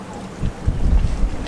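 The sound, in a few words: strong wind on a yacht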